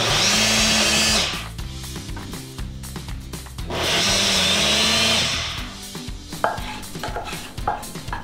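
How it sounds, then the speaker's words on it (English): A blender blending chile sauce runs with a loud, steady motorized whir for about a second, stops, then a second longer burst runs about two seconds, with clattering and handling noises between. "I'm gonna let you blend it since you know your blender."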